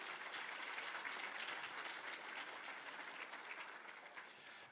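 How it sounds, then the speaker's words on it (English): Steady, dense applause from an indoor crowd greeting high school students at a school registration day event, sustained for several seconds without a break, then easing slightly toward the end. "Let's give our high schoolers a round of applause."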